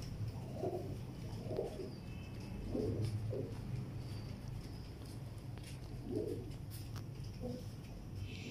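Teddy pigeons, fancy birds kept by a breeder, coo softly in a few separate low, throaty bursts over a steady background hum, close by and fairly quiet.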